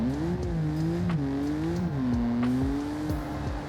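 Car in the BeamNG.drive driving game, driving out onto a road: the engine drones steadily close up, rising and falling in pitch as it revs and shifts, with faint tire noise beneath.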